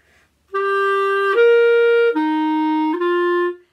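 A clarinet plays four throat-tone notes in a row, clear and close, each held about a second with a short break between them.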